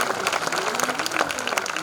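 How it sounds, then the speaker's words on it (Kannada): An audience at a village spiritual discourse in Danapura applauds in a dense, steady burst of many hands clapping together, loud and continuous for the whole short moment. "ಜೋರ ಚಪ್ಪಾಳೆ ತಟ್ರಿ"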